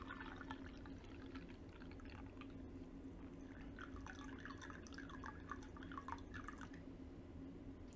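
Water drips and trickles through fukamushi sencha leaves during brewing, heard as faint, close, irregular patters and small splashes over a quiet background hum.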